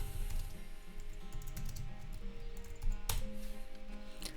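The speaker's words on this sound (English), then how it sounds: "and then I will type again" Computer keyboard keys being typed on while coding in a React text editor, a quiet, fairly continuous patter of clicks with one sharper louder tap near the end, over a faint steady background hum and no talking.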